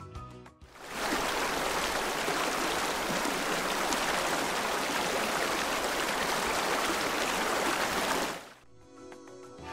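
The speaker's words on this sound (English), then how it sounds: "It's a river!" A river flows steadily in a continuous rushing, babbling wash, even and moderately loud, fading in and out at the ends with nothing else over it.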